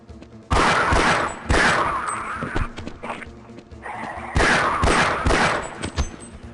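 Gunfire in the video game Half-Life: Blue Shift, with loud, close bursts of sharp shots in two clusters separated by a short lull, each cluster holding several rapid cracks.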